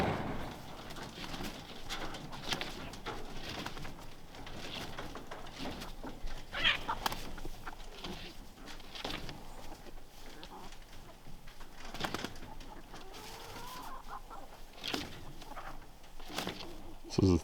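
A flock of 31 pasture-raised chickens, 28 hens and 3 roosters, clucking and cooing softly in a faint, scattered chorus close by, with a few sharper calls and rustling and no clear talk.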